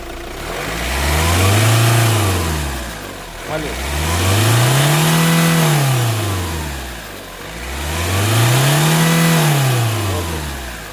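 A Hyundai i20 Asta diesel engine revs up and settles three times in a slow, even rhythm, loud and close, rising in pitch with each push of the throttle.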